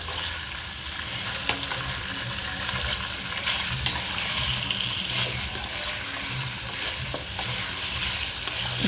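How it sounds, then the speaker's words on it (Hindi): Chicken pieces frying in a pan for chicken karahi, a dense continuous sizzle with a stirring spoon scraping and clinking against the pan, close and steady throughout. "ये हमारी फ्राई हो रही है"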